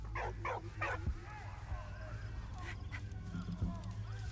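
The dog in Valiant Hearts gives a few short, yippy barks near the start over low game music and ambience. Faint honking calls follow, and someone talks briefly.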